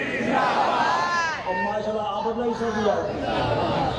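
A crowd at a religious conference in Sargodha roars a slogan together, a loud massed chant of rising and falling voices with a lead voice calling out over it.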